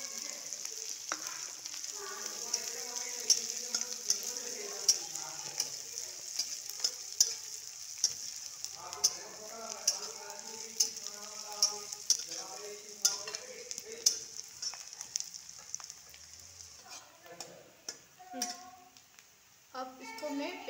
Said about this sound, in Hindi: अब हमको इसको अच्छा भूनना है। हम लहसुन का पेस्ट डालते हैं।